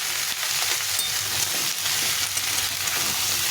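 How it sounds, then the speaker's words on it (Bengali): Spices sizzling in a pan with vegetables while cooking, a continuous loud hiss of frying with occasional stirring scrapes, close and steady, no voices. "মশলার সঙ্গে ভালো করে ভেজে নিতে হবে"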